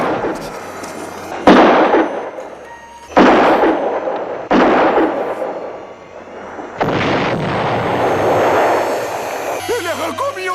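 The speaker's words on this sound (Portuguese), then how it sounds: "Os 3 homens começam a atirar, fazendo-a explodir" Dynamite blowing up on a cliff top amid gunfire in an Old West film scene, several loud booming blasts with long rumbling decays, spaced a few seconds apart, with voices underneath.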